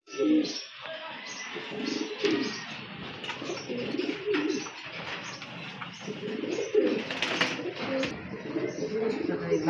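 Several pigeons coo repeatedly up close, their low, throaty rolling calls overlapping in a continuous chorus, with a few faint chirps and a voice murmuring in the background.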